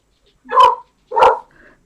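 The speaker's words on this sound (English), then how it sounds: "Sorry, bark alert." A dog gives two loud, close barks about half a second apart, followed by a faint trailing whine.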